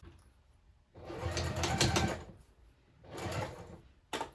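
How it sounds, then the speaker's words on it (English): A sewing machine stitches a zipper pocket onto a tote bag in two steady runs of whirring, with a short pause between them and a brief restart at the end. "I'm going to go ahead and sew that in place."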